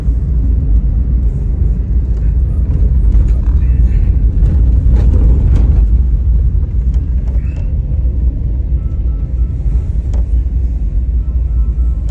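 A car drives slowly into a restaurant parking area at night, its low engine rumble and road noise continuous, with scattered faint clicks and knocks over the drone.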